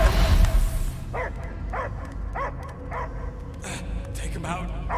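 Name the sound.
dog Cosmo barking in Guardians of the Galaxy video game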